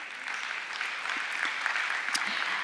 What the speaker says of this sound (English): Another round of applause for Helicon,